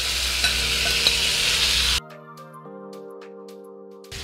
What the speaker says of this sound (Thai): จากนั้นตามด้วยป่วยกั๊กกับอบเชยแล้วก็ใส่หมู3ชั้นที่เราผัดลงไป